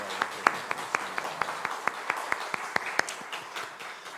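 A church congregation claps together in a steady, even rhythm of sharp claps, moderately loud and sustained, with a faint murmur of voices in the background.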